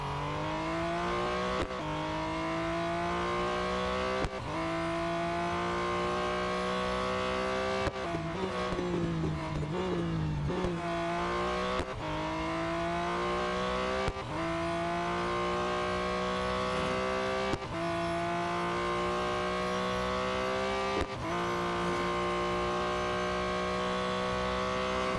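A race car in a video game tears through the long autocross at Mount Panorama, its engine droning steadily and climbing through repeated gear shifts, with a brief rough patch midway.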